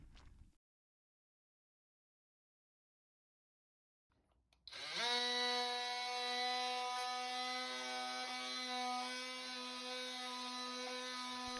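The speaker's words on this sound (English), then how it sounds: "press the button and sand away." A DeWalt oscillating multi tool with a triangle sanding pad sands wooden furniture, switching on after a short silence and then running as a steady, loud, high-pitched buzzing whine that holds continuously with slight variations in load.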